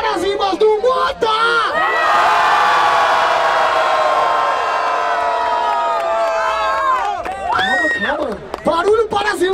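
Crowd at a freestyle rap battle final roars with sustained loud cheering, whoops and shouts that swell and then break into scattered yells, with voices calling out over the noise.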